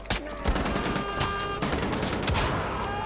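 Heavy gunfire from a powerful weapon in the shooter game Wolfenstein: The Old Blood, loud repeated shots and blasts in dense succession across the whole stretch, with no talking over it.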